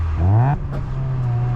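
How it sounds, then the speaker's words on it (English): A Mazda RX-7 FC's rotary engine blips and revs sharply during a downshift while driving, with a quick rising whine that drops back to a steady, close-up engine drone. "I'm gonna sketchily downshift"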